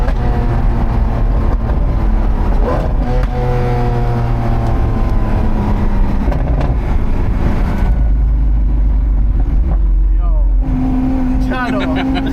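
Lamborghini SVJ, a 2020 model with an 800-horsepower engine, rumbling and revving loudly and steadily close by, its tone rising and shifting over several seconds while people talk over it.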